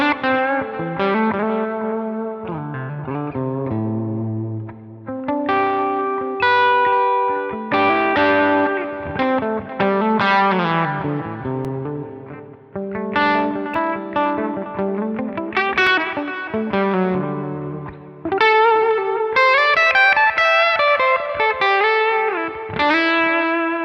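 A distorted electric guitar fitted with new strings, played through the bridge pickup, runs through chords and single-note phrases with a bright, crunchy tone, some chorus-like shimmer and slight reverb, loud and unaccompanied.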